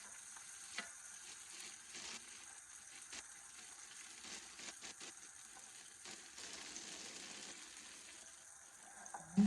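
Squash and plantain fritters frying in a pan, a steady soft sizzle and crackle that carries on throughout with small pops, fairly quiet and with no talking.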